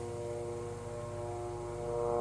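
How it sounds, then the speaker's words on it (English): A helicopter passing overhead outdoors, a steady droning engine and rotor hum with tonal whine that holds constant and swells slightly toward the end, with no talk. "I've got a train, no, a helicopter flying overhead"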